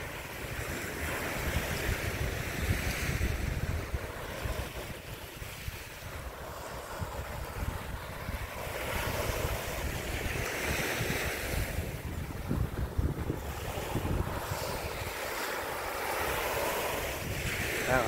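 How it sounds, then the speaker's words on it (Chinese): Ocean waves wash onto the beach at Man Kok Tsui on Lantau Island, a continuous rolling surf that swells and recedes, with heavy wind buffeting the microphone throughout and no voices. "聽下啲海浪聲啊，都好舒服嘅。"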